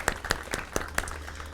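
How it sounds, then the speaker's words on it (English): Scattered, uneven clapping at an awards ceremony, with a few distinct close claps standing out from a thin crowd spread over a short burst. "A huge round of applause for Tammy and Ashley, who put this together."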